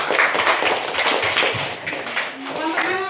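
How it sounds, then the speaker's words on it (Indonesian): Classroom group clapping after pupils present their work, a busy patter of hands mixed with children's voices and bumps, ending as a voice rises over it. "Tepuk tangan ya."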